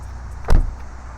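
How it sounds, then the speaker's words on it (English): A Dodge Charger door slams shut once, a single solid, close thud with a low boom against quiet outdoor background. "once I shut the door"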